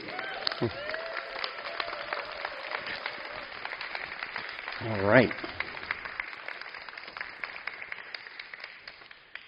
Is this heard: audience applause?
yes